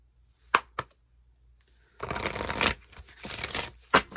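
A couple of sharp card snaps, then a short burst of riffling as a deck is shuffled, ending with another crisp snap.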